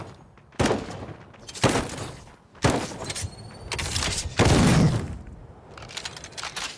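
Gunfire in the video game Death Trash, heard as several loud, separate bursts of shots spaced about a second apart, each a sharp crack with a short rattling tail, then quieter shots toward the end.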